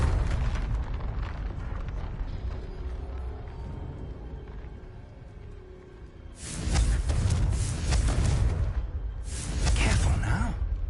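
A Confringo blasting spell in Hogwarts Legacy explodes in two loud, booming bursts with rumbling tails over ambient game background, the second blast following shortly after the first.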